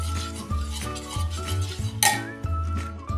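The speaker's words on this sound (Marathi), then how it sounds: "बघा आता एकसारखं हलवून ह्यामधला गूळ विरघळेपर्यंत जेवढं आपलं पाणी हे गरम होईल तेवढंच गरम करून घ्यायचं आहे" A ladle scrapes and knocks against a metal pot as jaggery is stirred into warming water on a gas stove, with repeated clinks and a sharper clatter near the middle, close and moderately loud.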